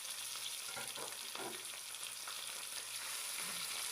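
Small pieces of bone-in beef fry with onions in a pot, a soft continuous sizzle with occasional stirring scrapes, faint and close with no voices.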